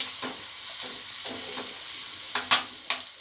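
Onions fry in an oil tempering for sarson ka saag, a soft continuous sizzle broken by a few light stirring scrapes, close and without voices.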